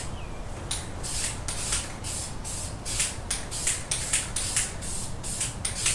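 A spray can hisses in short, rhythmic bursts close up as a very light tack coat of paint goes onto the brake calipers of a 1995 Corvette, with quiet shuffling between passes.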